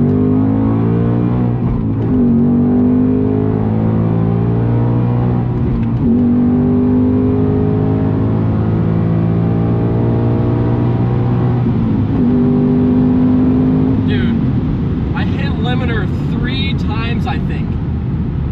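A Ford Mustang Dark Horse accelerates hard from a launch, its engine rising loudly in pitch three times up to the rev limiter with a short drop at each shift, heard close from inside the car, and a voice comes in near the end.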